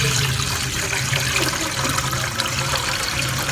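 About 1.5 kilograms of milk poured into a cooking pot for rice kheer, giving a steady, fairly loud gush of liquid that runs unbroken throughout.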